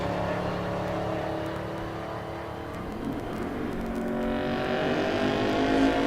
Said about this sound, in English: Corvette 3rd generation in the right lane